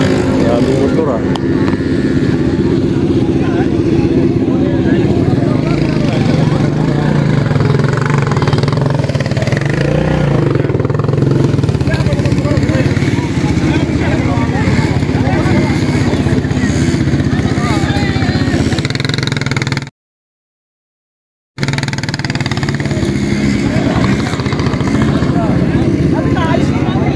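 Many motorcycles riding across the red sand desert near Riyadh: loud, close engine buzzing and revving, continuous with a short dropout near the end, while people talk over it.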